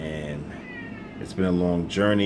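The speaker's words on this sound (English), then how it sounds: "That's my cat meowing." A pet cat named Snooky meows loudly in two drawn-out, wavering cries near the microphone, the first heard under a man's speech and the second close after it.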